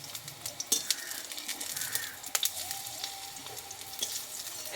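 Pumpkin leaf fritters sprinkled with white sesame sizzle softly in hot oil, with a steady crackle broken by sharp clicks and scrapes as a fritter is turned over in the pan.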